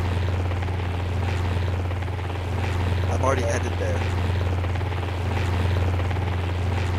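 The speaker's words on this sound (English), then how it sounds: "I'm in a helicopter." A helicopter flies in a Jurassic World video game, its rotor making a steady low thrumming drone that holds throughout, with players talking over it.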